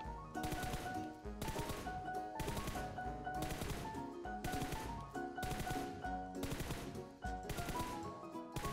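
An assault rifle fitted with a red dot sight fires in a video game, sounding as repeated short bursts of rapid automatic shots in an even rhythm, fairly quiet overall with brief gaps between bursts.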